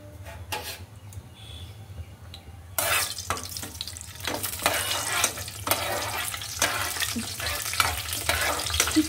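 Small pieces of cinnamon and bay leaves sizzle in hot oil in a pan, a sudden loud frying hiss that starts partway in and keeps crackling, with scattered clinks and stirring over a low background hum.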